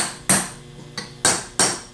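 A hammer strikes a drift to tap a bearing out of a Denso internal fan clamped in a vise over a rag, four sharp close metallic taps in an uneven rhythm, loud and alone.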